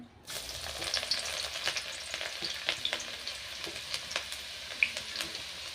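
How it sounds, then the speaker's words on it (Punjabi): Chopped garlic frying in hot oil for green chilli pickle, a steady close sizzle with crackling pops and occasional stirring scrapes, no talk. "ਤੇਲ ਨੂੰ ਆਪਾਂ ਚੰਗੀ ਤਰ੍ਹਾਂ ਕਰ ਲਾਂਗੇ ਗਰਮ ਆਪਾਂ ਜੀ ਇਹਦੇ ਵਿੱਚ ਐਡ ਕਰ ਦਾਂਗੇ ਕੱਟਿਆ ਹੋਇਆ ਲਸਣ"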